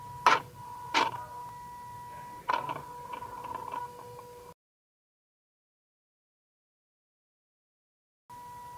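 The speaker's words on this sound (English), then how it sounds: "Looks like the gears inside needs lubrication." Mazda RX-8 throttle-by-wire body driven by its motor, dry gears giving a whirring hum with several sharp clicking bursts, close up, then a long stretch of silence before the hum resumes briefly.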